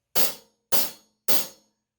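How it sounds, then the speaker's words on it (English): Three evenly spaced, bright cymbal crashes from hi-hat cymbals struck with a stick, each ringing briefly and decaying before the next, clear and close with nothing else around. "You can either hit the cymbals with a stick in your right hand"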